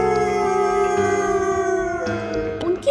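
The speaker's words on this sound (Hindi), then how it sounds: "तभी पास से सियारों के एक दल ने फूंकना शुरू किया।" A pack of jackals howls in sustained, overlapping wavering tones that hold steady for about three seconds, then shift pitch near the end, loud and close with no talk over them.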